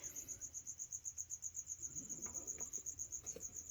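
A cricket kept in an indoor pet enclosure chirps at night in a rapid, steady pulsing trill, fairly faint and close, with a few soft rustles toward the end.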